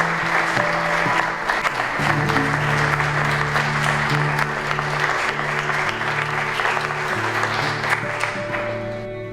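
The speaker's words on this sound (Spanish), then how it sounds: "yo creo que se merece un aplauso" Sustained audience applause at an award ceremony for a young scientific-technical talent prize, dense clapping filling the room for about nine seconds with steady low tones underneath, fading slightly at the end.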